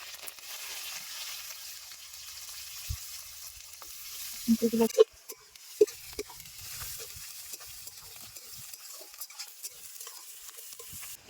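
A quiet, steady sizzle of onions frying in oil until browned, interrupted by a few scraping stirs and light clinks of a spatula against the pan.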